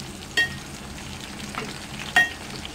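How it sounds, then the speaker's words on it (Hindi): Goat fat fries on a slow flame while being stirred, a low steady sizzle broken by two sharp metallic clinks of the spoon against the pan, close, no voices. "गोल्डन होने तक हम इसको स्लो फ्लेम पे फ्राई करते जाएंगे"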